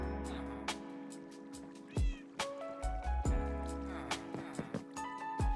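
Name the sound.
cat meowing in Minecraft video game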